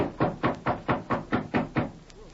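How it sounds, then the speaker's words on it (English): Knuckles rap on a wooden door as a radio drama sound effect, seven evenly spaced close knocks in a steady rhythm, clear and alone. "Here's York's door. I'll knock to let him know we're here."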